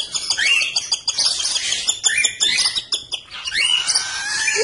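A cockatiel chick being syringe-fed gives insistent, high, scratchy begging chirps and squawks, repeated rapidly and close up, with soft rustling between calls.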